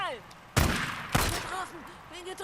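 Gunfire in the video game Days Gone: two loud, sharp shot bursts about half a second apart, each followed by fading reverberation, with other in-game sounds in the background.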